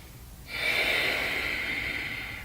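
A single long, audible breath in through the nose during slow shoulder rolls in a hip-opening yoga routine, a close, airy hiss that swells and holds steadily.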